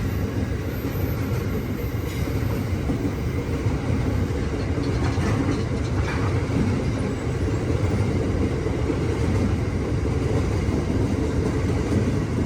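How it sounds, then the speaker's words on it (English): Transperth suburban train and a freight train running side by side through Midland Station, heard as a steady, loud rumble of wheels and engines that holds evenly for several seconds, with faint squeals and rattles on top. "So Transperth train and freight train race."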